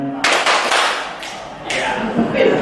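An audience at a school gathering claps along to a children's action song, several bursts of group clapping mixed with voices and room noise, fairly close and loud.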